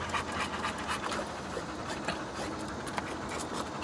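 Dogs panting steadily at a park on a warm day, a continuous rapid breathy rhythm up close with faint outdoor background noise.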